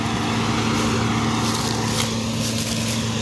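A Karvi MK3131 corn harvester with blunt knives threshes and chops corn, giving a steady, loud, droning engine hum with a constant rough mechanical churning throughout.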